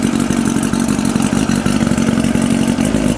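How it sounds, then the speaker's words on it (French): A 1992 Mercury classic 40 HP outboard motor with a newly installed engine block runs steadily on its first start, a loud, close, rapid mechanical clatter holding an even drone throughout. "Fait que le moteur marche."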